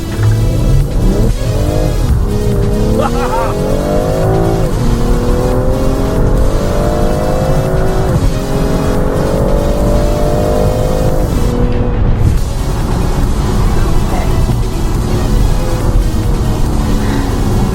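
A 2020 BMW M340i xDrive accelerates hard, its engine climbing through repeated rising sweeps with gear changes, loud and close throughout with no talking.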